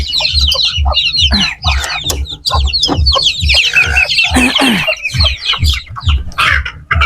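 A mother hen guarding ducklings and chicks clucks loudly and close by, a steady run of short repeated clucks over busy high cheeping from the young birds.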